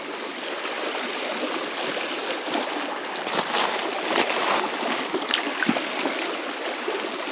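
River rapids rush steadily in a broad, continuous roar of water, close and loud, without pause or voices.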